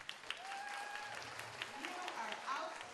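Audience applause at a JFK Memorial Trust Fund Committee gathering in Barnstable, a steady faint patter of clapping that runs throughout, with voices talking over it.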